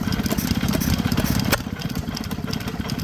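Vintage stationary engine running at an engine rally, a loud, close, steady rapid chugging with a sharp click midway and continuous outdoor background.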